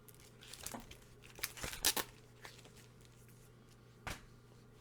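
Tape and bubble wrap being torn off a mailed comic book package: a string of rustling, crinkling and ripping bursts, close and fairly quiet, with the loudest tearing near the middle and a sharp rip toward the end.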